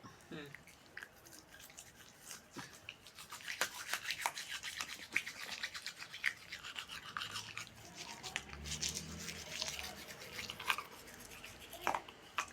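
Toothbrush scrubbing a pet's teeth: quick, soft bristly rubbing strokes repeat in irregular bursts at close range, with some faint chewing sounds and brief speech in places.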